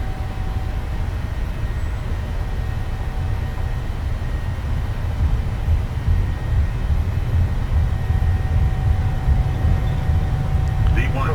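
PMDG Boeing 737 engines spooled to takeoff thrust in Microsoft Flight Simulator, a steady, dense low roar with a faint whine that holds evenly and builds slightly toward the end, with no talk over it.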